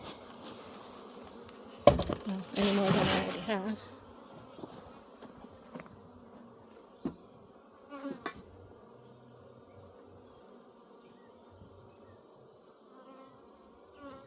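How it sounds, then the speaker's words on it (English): Honeybees buzz in a steady close drone around an opened backyard hive, with a few louder swells and rustling handling noises early on, then a quieter, continuous hum. "I'm not going to aggravate these bees"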